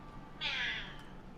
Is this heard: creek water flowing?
no